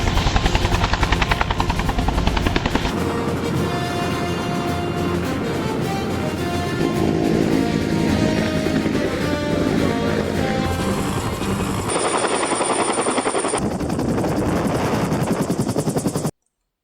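A Huey helicopter's rotor thumps rapidly and continuously with a loud engine whine, close by, shifting in pitch as it passes.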